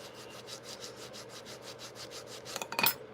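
A homemade sanding block cut from a paint stirrer rubs against the door of a Hammerhead Corvette model car in quick, rhythmic back-and-forth strokes, soft and close, ending with a brief louder scrape.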